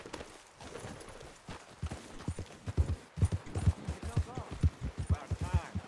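Horse hooves clip-clop at a steady trot in the Red Dead Redemption 2 video game, close and rhythmic, growing stronger midway, with faint talking underneath at the start.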